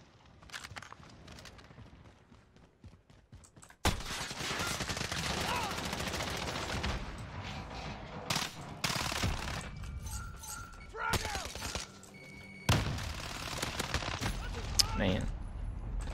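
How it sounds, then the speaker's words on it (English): Gold Fennec (Vector) submachine gun in a video game firing rapid full-auto bursts from a big magazine, loud and close, with pauses between bursts and someone talking over parts. "Go through ammo like a champ with this gun."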